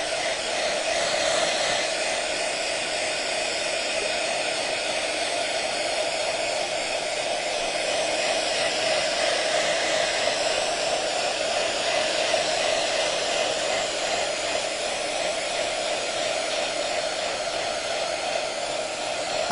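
A hair dryer blows steadily and loudly for the whole stretch, drying a crackle paint finish, a constant rushing hiss with no voices.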